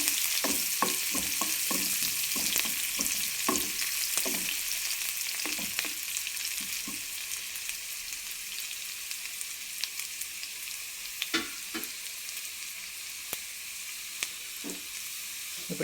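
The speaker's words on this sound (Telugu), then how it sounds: "ఇది కొంచెం ఎర్రగైనాక ఆవాలు, జీలకర్ర వేసుకోవాలి" Mustard seeds and cumin frying in hot oil for a Telugu dal, a steady bright sizzle throughout with scattered sharp pops and crackles from the seeds, close and fairly loud, no talking.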